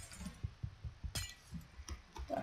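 Ice blocks broken in Minecraft SkyBlock: a few sharp glassy shattering cracks, among soft thuds of footsteps and clicks, moderately quiet with no talk.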